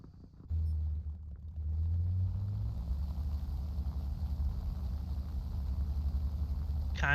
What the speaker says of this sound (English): Love that way that engine sounds on a low idle.